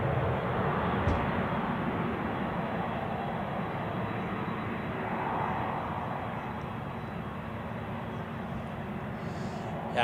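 A continuous broad engine roar from airplanes at Zurich Airport on a gusty crosswind day, steady and moderately distant, filling the whole stretch without pause or voices.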